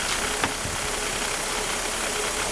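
A Mercedes M104 engine idles steadily with a faint belt tensioner noise under a broad hiss, and one brief knock near the start.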